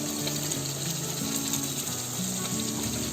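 Punjabi chicken cooking in masala sizzles and fries steadily in an open pot, a continuous close crackle with no voices.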